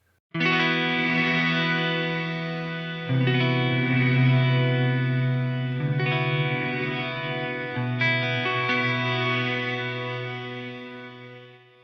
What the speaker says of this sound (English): This is, kind of gives you that combination of delay and reverb.